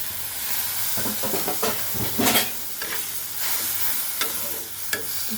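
Spices sizzling and frying in a pan with coconut and almond milk, a steady hiss broken by repeated scraping stirs, each stroke bringing a brief louder burst of sizzle, heard close with no talking.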